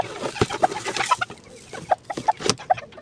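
A hen clucks repeatedly in short, close bursts, irregular and spaced apart, with a few sharper calls among the soft clucks.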